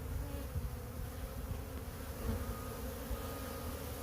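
Honeybees buzz steadily around a hive entrance on a busy winter day as foragers fly in, a dense continuous droning hum close by with no voices.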